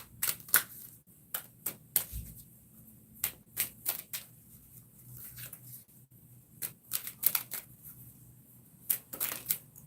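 A tarot deck is shuffled by hand close up, giving irregular crisp bursts of riffling and slapping cards separated by short quiet pauses.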